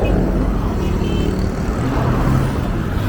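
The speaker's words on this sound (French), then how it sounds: "Ah ouais, les avions décollent." Airplanes taking off at the edge of the airport in Port Bouët, Abidjan, make a steady, loud low rumble that fills the scene without pause, with no voices.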